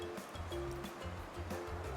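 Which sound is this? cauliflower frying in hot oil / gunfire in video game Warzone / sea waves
sea waves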